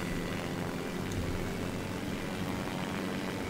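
Propeller drone with vertical takeoff in the Simple Planes game, a steady dense droning whir that holds at an even level throughout with no pauses.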